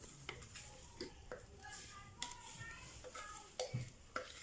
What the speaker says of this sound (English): so I'm going to change the blade